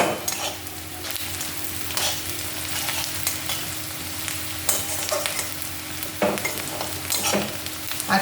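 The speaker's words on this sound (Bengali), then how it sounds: "এটা একটু ভাজা, মানে খুব লাল করে ভাজতে হবে না" Rohu fish pieces fry in fish oil with a steady, close, crackling sizzle, broken by occasional stirring scrapes and clinks. No one speaks.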